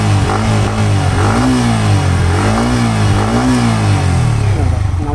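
A Yamaha MT15 BS6 motorcycle engine is revved repeatedly from close range. Its loud note rises and falls in several waves over a steady idle, with no talk over it.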